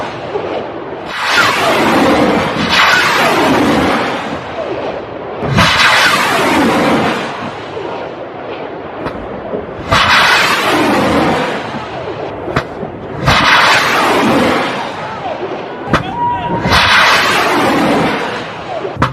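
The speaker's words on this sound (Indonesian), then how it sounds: "Lihat bagaimana mereka tembak rudalnya." Missiles launch in about five roaring, hissing bursts that each swell and fade over a few seconds, loud and broad, with faint noise between.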